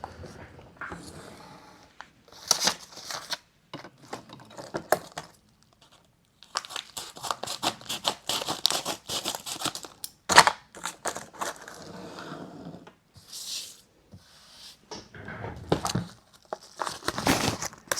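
A cardboard subscription box package from Coffee Monsters Co is cut and torn open up close, with bursts of crunching, crinkling and tearing separated by short pauses.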